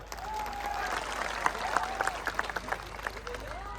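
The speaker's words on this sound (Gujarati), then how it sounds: "બધા માટે એકવાર જોરદાર તાળીઓ પાડી લો." Crowd applause at a political rally speech in Rajpipla, a dense wash of clapping that swells into sharper, distinct claps toward the end, with faint voices mixed in.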